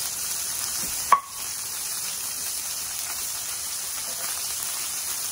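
Cod loin with extra seasoning searing in a hot pan, a steady close sizzle and hiss with one brief sharp clatter near the start, then continuous frying alone.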